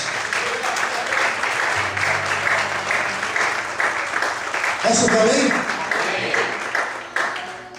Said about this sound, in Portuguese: Quantos podem aplaudir e exaltar a Deus?